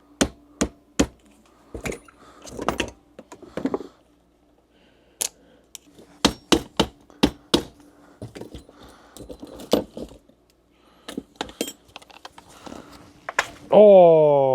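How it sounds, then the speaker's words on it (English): A chisel struck with a hammer to free a jammed snap ring on a sailboat engine: scattered sharp metallic taps and clinks in short irregular clusters, close by, ending with a rising tonal squeal. "Bet you if I get a chisel on that."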